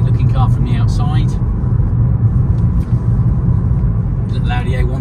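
A 2012 Audi A1 1.4 TFSI Sport hatch rolls along a bumpy country road, heard from inside as a steady low road rumble and engine drone with light thumps, while someone talks over it at start and end.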